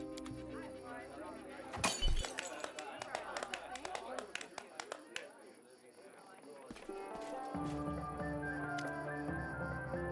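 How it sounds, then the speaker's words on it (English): A wine glass shatters on the ground in the fantasy role-playing game Pathfinder: Wrath of the Righteous; one loud, sharp crash with tinkling shards stands out amid game music and voiced dialogue. "finishes his wine, and tosses the glass to the ground"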